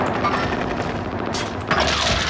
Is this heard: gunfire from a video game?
yes